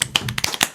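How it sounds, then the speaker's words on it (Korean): A few separate claps in a church gathering welcoming a pastor as speaker, brief sharp hits at an uneven pace, close and moderately loud. "박수로 환영하겠습니다"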